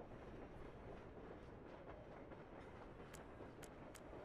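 A video game train runs steadily along its tracks with a continuous rumbling roar and faint clickety-clack, loud and close throughout, with a few brief high squeaks near the end.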